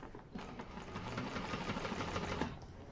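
A sewing machine basting a seam on a Konin bowler bag, a rapid steady run of close stitching that lasts about two and a half seconds.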